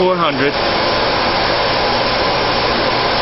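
A canister vacuum cleaner runs with a steady, loud whooshing drone, joined at the start by a brief rising whine as the motor spins up.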